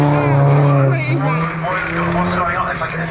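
Big-engined race car at a Cadwell Park time attack final, its loud harmonic engine note holding steady then shifting pitch as it passes close by on track, with talk over it.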